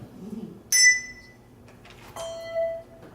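A handbell struck twice, each ring bright and metallic, then quickly damped so the tone cuts short; quiet room otherwise.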